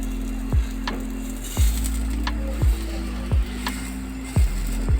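A chicken cheese paratha fries in oil on a pan, turned to cook its second side. A continuous sizzle runs under a low hum, broken by five or six sharp thuds or taps at irregular intervals.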